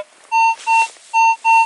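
Minelab Vanquish 540 metal detector gives four loud, sustained electronic tones in quick succession, each a clean steady pitch with short gaps between, heard alone.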